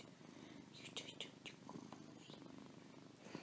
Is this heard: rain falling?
no